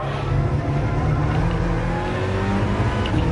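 Alfa Romeo race car in a racing video game held at full throttle, a loud continuous engine roar with a rising tone as it pulls through the gear, steady and unbroken with no talking.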